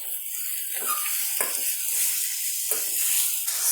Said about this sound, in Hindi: चिकन को फ्राई करेंगे।